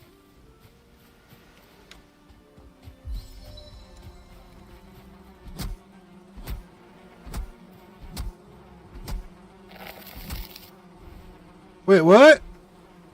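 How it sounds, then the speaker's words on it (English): Buzzing bees in a video game, a faint drone behind a series of soft rhythmic thuds and a loud warbling tone near the end, with a brief spoken exclamation. "That is bees."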